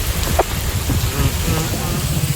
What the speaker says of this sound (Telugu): ఇక వర్షం బాగా పడుతుంది